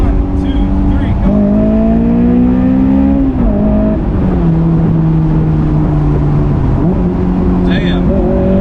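Inside a 2004 Honda S2000 AP2 under hard acceleration, the engine drones loudly and rises in pitch through the gears, with brief dips at shifts, constant cabin roar throughout.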